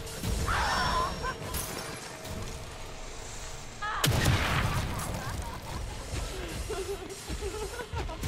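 Gunfire in The Evil Within 2 video game: loud bursts and booming shots with a sharp blast near the middle, mixed with game noise and a voice talking.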